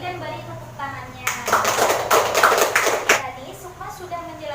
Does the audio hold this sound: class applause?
yes